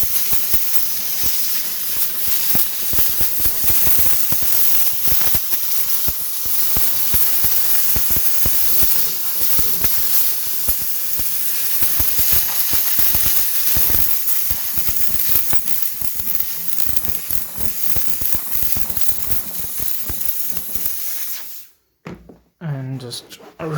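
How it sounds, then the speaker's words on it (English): A high-pressure steam cleaner blasts a Toyota Corolla's dashboard speaker grill with a loud, steady hiss that runs unbroken for about twenty seconds, then cuts off abruptly. "let's just start by giving high pressure steam to every hole in this speaker grill"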